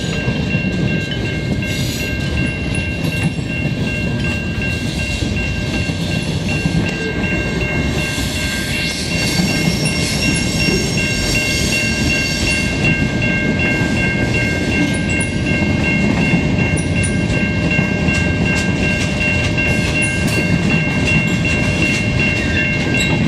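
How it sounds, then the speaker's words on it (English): A CN freight train of mixed cars rolls past in Montreal with a continuous loud rumble and a metallic rattle. A steady high screech holds throughout. "Train at sunset."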